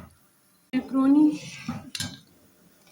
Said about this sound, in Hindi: और हम ये बर्तन धोते हैं